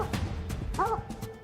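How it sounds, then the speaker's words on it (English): Hunting hounds barking furiously in snow during a hunt, a few sharp barks and yips in quick bursts, close and fairly loud, with a whining, rising-falling cry in the middle. "The dogs barked furiously, urging me to fire."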